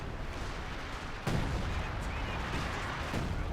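Heavy artillery barrage in the strategy game Company of Heroes 2: a dense, rumbling wash of booms and distant blasts kicks in sharply and continues under constant battle noise.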